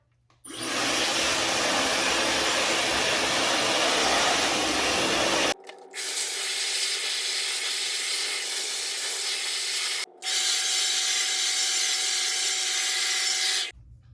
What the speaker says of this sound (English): I'm gonna go ahead and blow dry this side